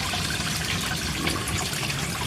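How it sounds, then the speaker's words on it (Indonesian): A small waterfall spills into a garden koi pond with a steady close splashing and trickling. It is moderately loud, it stays even throughout and nobody speaks. "Ini saya kasih sedikit air terjun biar sedikit agak enak"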